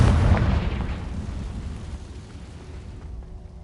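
Confringo fire spell detonating in the video game Hogwarts Legacy: a single loud, deep blast at the start that rolls off into a long, fading rumble, with no voices.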